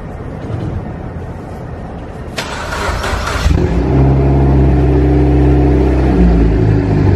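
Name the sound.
Mitsubishi Evo X engine starting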